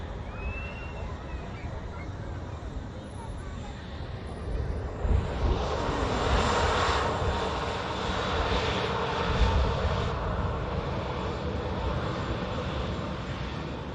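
Heavily loaded airliner bound for Beijing on its takeoff roll at Manchester Airport, a steady distant jet roar that swells and stays broad through the second half.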